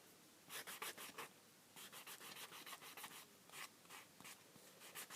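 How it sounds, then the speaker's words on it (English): A small brooch's edges are sanded with a kitchen sponge, giving soft, repeated scratchy rubbing strokes in short bursts with brief pauses, close up and fairly quiet, with no talking. "Sand the edges"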